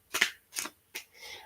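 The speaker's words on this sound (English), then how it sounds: "I'm shuffling my cards as we speak." Tarot cards shuffled by hand in short, quiet riffling bursts, three crisp flurries with brief pauses, then a softer sliding rustle, close and faint.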